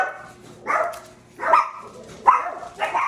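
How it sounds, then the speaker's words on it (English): Several dogs bark in bursts from the background of a home kitchen, four loud barking spells spaced about a second apart. "Why is it every time I go to record, the dogs bark?"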